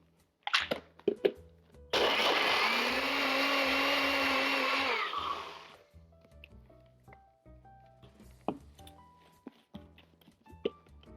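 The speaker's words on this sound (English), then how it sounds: "we are just going to blend this until it's super, super creamy" A small personal blender whirs loudly for about four seconds blending a pumpkin mixture until creamy, then winds down, with clinks and handling noises before and after.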